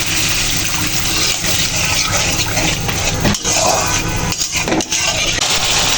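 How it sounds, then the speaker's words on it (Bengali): Water is poured into a pan of frying spice paste made with onion paste and coriander powder, giving a loud, continuous gushing splash that lasts several seconds. "মশলাটা কষানোর জন্য সামান্য পরিমাণ পানি দিয়ে দিব"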